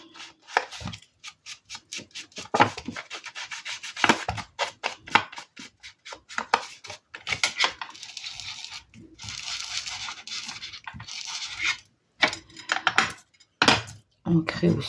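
Ink being rubbed around the edges of paper tags for a vintage look in a crafting session, heard as short, repeated scuffing and dabbing strokes in quick bursts, fairly close, with a few brief pauses.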